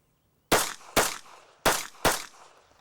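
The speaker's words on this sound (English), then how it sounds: "I'm shooting 2 shots on the right target and 2 shots on the left target." Four loud, close pistol shots are fired as two controlled pairs, each pair quick with a short gap between the pairs, with sharp cracks that decay fast in an otherwise quiet range.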